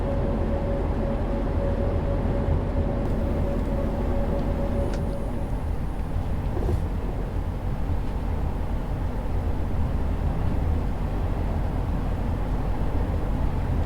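Class 50 diesel locomotive running on the Great Yarmouth to Norwich line in Train Sim 2021, a steady low engine rumble and rolling noise throughout, with a brief tonal whine early on and a couple of faint clanks.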